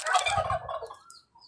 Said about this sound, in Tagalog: Nagmumura pa yung pabo.